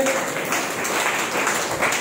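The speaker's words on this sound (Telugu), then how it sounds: "చప్పట్లు కొట్టి యేసుని మహిమపరచండి" Congregation clapping during a Sunday church worship service, a dense, steady wash of hands with no pause.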